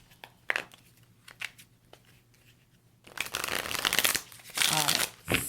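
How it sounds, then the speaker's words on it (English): Tarot cards shuffled by hand, a few soft riffles and taps at first, then a longer burst of dense, loud crinkly shuffling, close up with no one talking. "I just want to shuffle these a few more times"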